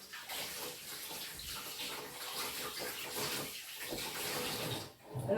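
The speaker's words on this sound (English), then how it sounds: "I gotta wash my hands off" Steady rush of running tap water while hands are washed beneath it in a kitchen during cooking, continuous and close, with brief splashing changes near the end.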